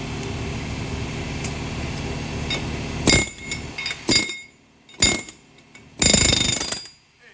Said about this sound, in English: Good air hammer.